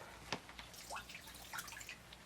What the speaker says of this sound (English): back into my tub over here, and just to get the excess water out of the sponge